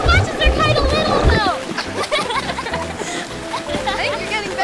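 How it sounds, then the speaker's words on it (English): Children splashing water in an indoor pool, loud sloshing bursts at first that settle into lighter splashes, with excited kids' voices and playful talk over them throughout. "Big splashes. My splashes are huge."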